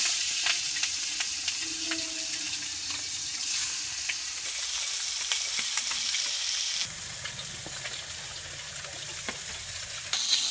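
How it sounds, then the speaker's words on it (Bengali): Stinging catfish (shing fish), coated in turmeric and salt, fries in oil with a continuous close, loud sizzle that shifts in texture partway through, with light stirring sounds and no talk. "তেলটা দিয়ে নিতেছে, শিং মাছটি মাখাই নিতেছে, এখন দিয়ে নিতেছে।"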